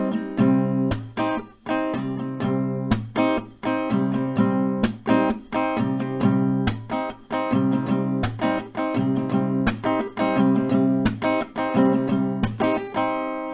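An acoustic guitar strums chords from a song in a steady, bouncy rhythm with crisp, slightly muted strokes, played close and alone with no voices.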